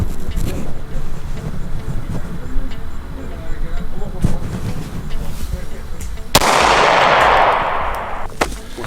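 A single pistol shot cracks out loud and close during a shooting match played like poker, then a broad burst of noise decays over about two seconds amid a noisy, hollow-sounding room.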